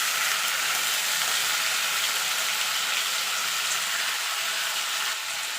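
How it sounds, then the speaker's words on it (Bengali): Tomato and drumstick pieces frying in a pan, a loud continuous sizzle with a crackling hiss throughout. "মিনিট খানেক আমি ভেজে নিয়েছি।"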